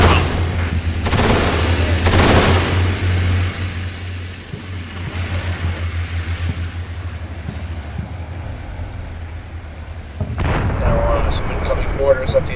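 Mortar blasts and gunfire in the war game Combat Mission Shock Force, with loud booming impacts early on and again near the end, and a quieter rumbling stretch in between.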